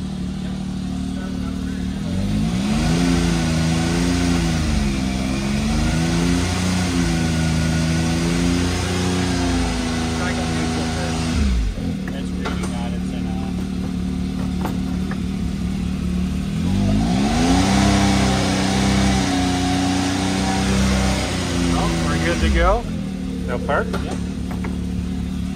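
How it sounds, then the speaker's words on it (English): A 2022 Can-Am Maverick X3 XRS SS side-by-side, fitted with a new ECM, is revved in several long rising and falling pulls with steady idle between, loud and close, while people talk over it. "So just rev it up now?"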